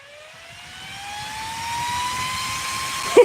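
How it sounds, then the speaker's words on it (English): A powerful electric fan from an Arrma Mojave 6s BLX RC car spins up with a steadily rising high-pitched whine and a rushing airy roar, close and loud, running alone with no talk. "This is a fan."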